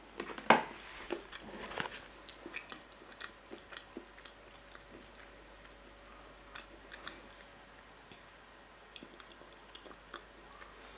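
Someone bites into and chews food close to the mic, a sharp crunchy bite followed by repeated soft crunching and squishy chewing, faint and intermittent in a quiet room.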